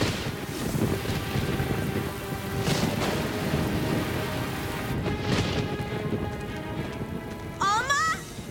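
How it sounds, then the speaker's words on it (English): Steady rain falling outside, a constant patter on surfaces with gusts of wind, and a short rising electronic tone near the end. "But it's raining outside."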